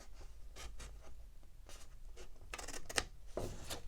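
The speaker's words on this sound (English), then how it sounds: "I'm going to cut to my score line." Scissors snipping through paper up to a score line while making envelope inserts for a journal, a few soft rasping cuts spaced unevenly, close and quiet against a faint background hiss.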